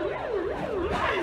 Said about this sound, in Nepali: दमकल पनि भर्खर आइपुगेको छ